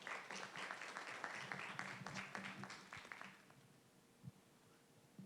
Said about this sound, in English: Okay, there was an applause here.